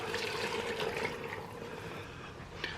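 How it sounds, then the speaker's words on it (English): Water poured into a pot of chili with crushed tomatoes, a steady close splashing stream lasting a few seconds, fairly soft. "Add in 3 cups of water."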